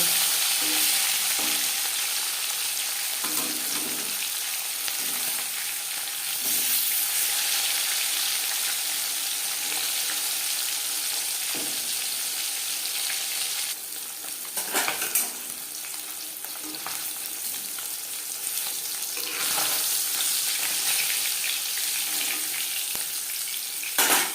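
Marinated katla fish fries in a pan with a continuous close sizzle and intermittent spatula clatter, plus occasional louder crackles as pieces are moved or turned.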